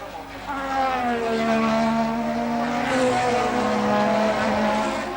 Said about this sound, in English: And Patrese in the normally aspirated Williams Judd, with Prost in the turbo McLaren Honda behind him.